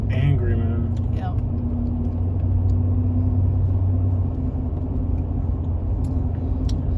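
A car drives through Ladonia, Alabama, its engine and road noise a low, steady rumble heard from inside the cabin, with people talking over it.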